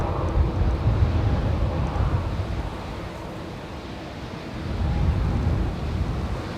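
A Boeing 787 Dreamliner arriving at Manchester Airport, heard as a steady low jet roar with wind buffeting the microphone, swelling slightly toward the end.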